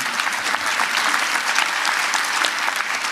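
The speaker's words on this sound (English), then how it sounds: "Yes, you can applaud" A large crowd at a mayoral State of the City address breaks into loud, sustained applause, a dense wash of clapping that holds evenly throughout with no one speaking over it.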